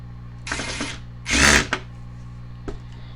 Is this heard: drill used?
yes